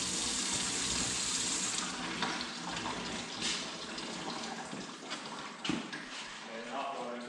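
Hot water runs steadily from a kitchen faucet once line pressure is restored after a kinked supply line is cleared, a continuous hiss and splash throughout with people talking over it.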